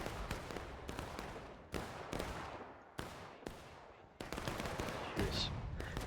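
Musket volleys crack in a Civil War battle video game with hundreds of players, a dense run of sharp overlapping shots in irregular bursts, some sounding near and others more distant.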